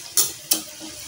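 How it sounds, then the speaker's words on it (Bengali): Snacks frying in hot oil give two sharp bursts of sizzling spatter close up, separated by a brief pause, over a low background hiss. "হতে থাক লাল করে ভাজবো।"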